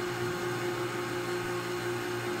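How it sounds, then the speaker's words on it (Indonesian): A blender's steady motor hum with a constant whirring drone, blending chocolate cake batter, continuous and fairly loud throughout, with no pauses and no voices. "haluskan dengan blender ya teman-teman"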